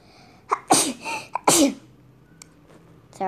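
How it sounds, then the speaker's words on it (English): A person sneezes, two or three sharp bursts in quick succession, close and loud, followed by quiet with a faint tone and a small noise at the end. "Sorry, I'm sneezing."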